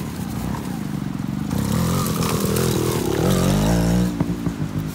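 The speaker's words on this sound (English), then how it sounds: "That was the motorbike and bike." A motorbike passing close by outdoors, a loud engine drone that rises and shifts in pitch as it goes past, fading slightly at the end.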